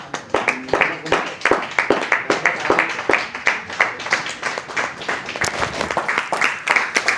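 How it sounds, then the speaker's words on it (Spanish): A standing church congregation claps loudly for God during a service, with rhythmic, fairly even handclaps, some in unison, continuing steadily throughout. "Nos ponemos de pie y le damos un aplauso fuerte a Dios"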